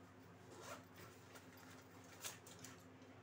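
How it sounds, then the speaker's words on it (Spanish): A zipper on a travel backpack pocket is pulled open, a soft, close, ragged rasp running through quiet room noise. "aquí tiene este bolsillo, que es con cremallera"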